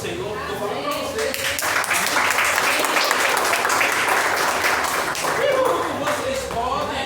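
A church congregation applauds in steady, dense clapping that fills the room, with voices calling out over it and singing or shouting rising at the start and near the end.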